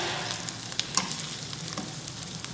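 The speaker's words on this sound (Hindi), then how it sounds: "इसको अच्छी तरह भून लें। अदरक लहसुन को सिर्फ इतना पकाना है कि इसकी हीट ख़त्म हो जाए" Ginger and garlic fry in a pan with a dense, steady sizzle, small sharp pops scattered through it and quiet stirring, close and continuous.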